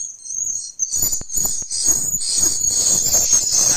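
A recorded swiftlet roosting call for bird houses plays as dense, continuous high chirping and twittering, loud and steady with short gaps near the start and no talking.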